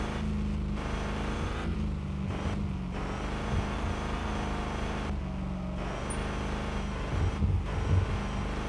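A car engine in the RevHead racing video game drones steadily and loud throughout, with pitch sweeping up and down as the throttle is feathered, plus brief dips and shifts between revs, alone without talk.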